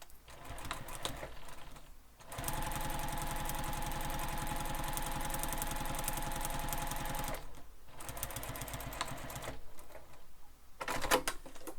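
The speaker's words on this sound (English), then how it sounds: "So I'm just top stitching using the seam allowance given in the pattern." Sewing machine top stitching a backpack, a steady mechanical whir of rapid needle strokes running continuously for several seconds, then stopping and restarting in short bursts.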